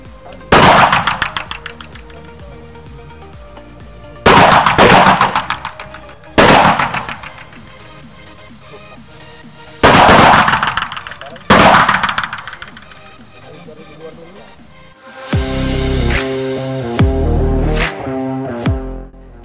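Gunshots ring out during shooting practice as loud, sharp reports spaced a few seconds apart, each trailing off in a ringing echo, followed by a denser stretch of clattering noise.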